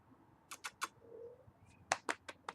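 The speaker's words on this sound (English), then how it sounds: "She's meowing at me." A pet cat meows several times in short, bright calls, a cluster of three, then a longer one, then another run of three or four, fairly close in a quiet room with no talk.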